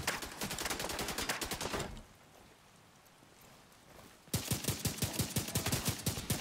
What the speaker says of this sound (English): I like this rifle because it shoots fast